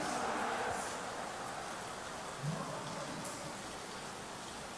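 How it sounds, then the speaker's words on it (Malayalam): Heavy rain in the football video game PES 2020 during a Manchester United match, a steady dense hiss of downpour running throughout, loud and continuous with no voices. "മഴയാണ്, അതിതീവ്ര മഴയാണ് ഇവിടെ"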